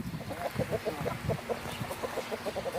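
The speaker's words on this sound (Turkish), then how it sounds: "Bizim tavuklar burada." A flock of chickens clucks in rapid, overlapping bursts nearby, a busy continuous chatter of hens and roosters.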